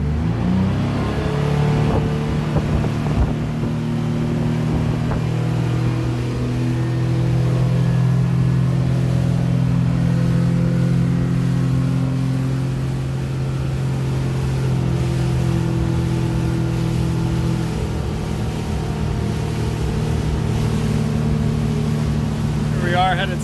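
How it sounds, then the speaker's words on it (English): A 2004 Century 2300 WA boat with a Yamaha four-stroke outboard accelerates onto plane, the engine drone climbing steadily in pitch and then holding a strong cruising hum over rushing water, with someone talking over it. "Let's get the boat up on plane to 30 miles per hour, which is your most fuel efficient cruise."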